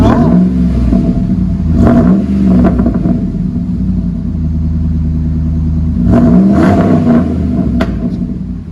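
A 5.7L HEMI V8 in a RAM 1500 breathes through a Flowmaster Flow FX exhaust, rising in a few sharp revs near the start and again later, with a deep steady rumble between blips, loud and close.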